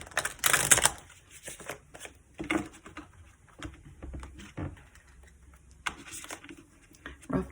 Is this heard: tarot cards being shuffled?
yes